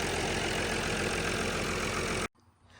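The engine of an old Massey tractor runs loud and steady at idle with a close, rough, throbbing rumble, then cuts off abruptly near the end, leaving faint quiet background.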